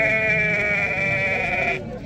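A sheep gives one long, strained bleat up close at a weekly livestock market, loud and wavering for about two seconds before fading under background bustle.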